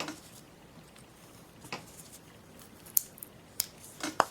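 Faint, sparse scraping and clicking of a knife carving a chip out of wood, with several soft cuts and a couple of sharp little snaps near the end, close and quiet, with no voices.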